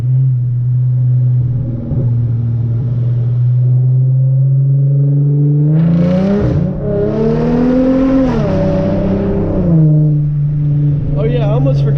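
Hyundai Genesis Coupe engine revving hard, pitch climbing and falling through several rises with rough crackling bursts from the exhaust, loud and close over a steady low idle.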